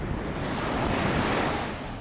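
Ocean waves washing up onto seaweed on the shore at Salt Whistle Bay, a dense continuous surf hiss swelling and easing slightly, close and loud with wind buffeting the microphone, no voices.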